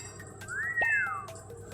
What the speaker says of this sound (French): je crois que je vais essayer de siffler.